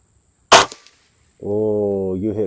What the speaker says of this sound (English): You go ahead and take some shots.